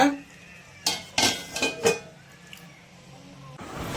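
A few clattering knocks as a plate is set as a lid on a metal cooking pot, several sharp clinks in quick succession, close by, with no talking.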